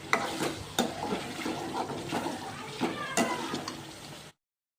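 Onions sautéing in oil in a pan while being stirred, with intermittent scraping clicks over a soft frying hiss; close and moderately quiet, with no talking.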